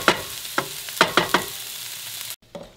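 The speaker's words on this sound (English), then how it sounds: "So kind of start browning the meat first." Pork sausage browning in a frying pan, with a soft sizzle broken by several sharp scraping stirs of a utensil against the pan, close up and with no talking.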